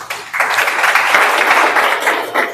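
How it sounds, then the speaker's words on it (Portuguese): Live audience at a Brilliant Minds themed panel breaks into sustained applause, a dense wash of many hands clapping that swells in quickly and holds steady for a couple of seconds before tapering. "Uma salva de palmas aí."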